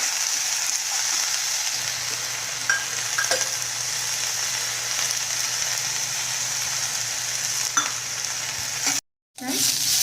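Steady oil sizzle of mint leaves roasting, with occasional stirring scrapes and clinks, close up, no talking, briefly cutting out near the end.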